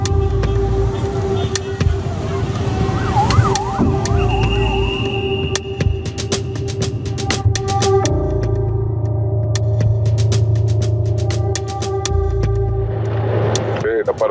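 A police patrol car siren wails on a street in Cuba, rising and falling briefly amid loud traffic and engine noise, with people talking nearby.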